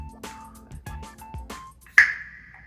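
Several sharp clicks and cracks from handling a store-bought Starbucks Frappuccino bottle, followed by a crisp pop of the cap opening with a brief ringing tail, close and clear.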